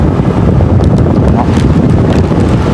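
Strong wind buffets a microphone outdoors on a cold, breezy day, a steady broadband rumble and roar that stays loud throughout without pause.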